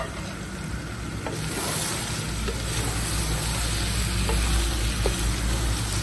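Six medium-sized tomatoes, roughly chopped, frying in a pot for beef biryani, giving a steady, loud broadband sizzle with faint stirring clicks throughout and no talking.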